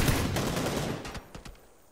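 A HK416 rifle fires fully automatic in PUBG, a dense burst of rapid, loud shots that continues for over a second, then a few separate cracks as the firing tails off into quiet.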